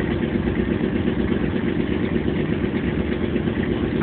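Motorcycle engine idling close by in a steady, unbroken rumble with an even rhythm throughout and no voices.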